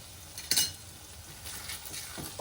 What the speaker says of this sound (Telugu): ఒక 2 నిమిషాలు వేపేసుకొని స్టవ్ ఆఫ్ చేసుకొని సర్వ్ చేసేసుకుందాం.